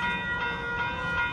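A Union Pacific freight train brakes to a stop, with thin, sustained metallic squeal tones held over a low rolling rumble.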